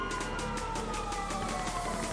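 A police siren wails steadily in the GTA Online video game, a continuous electronic tone that holds at a moderate level for the whole stretch, with game background noise and no speech.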